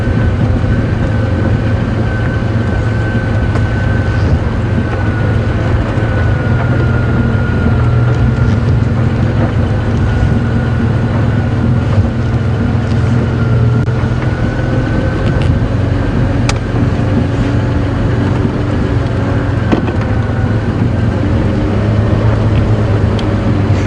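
Steady engine drone of a safari vehicle rolling slowly up a road at Djuma Game Reserve, loud and continuous throughout with a constant hum and no talking.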